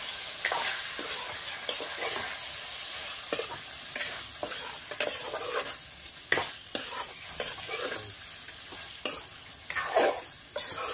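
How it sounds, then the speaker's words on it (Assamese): Food is stirred in a frying pan with a utensil, giving repeated scraping strokes over a continuous bright sizzle of hot oil, close up and steady with no speech. "অকণমান লৰাই দিম"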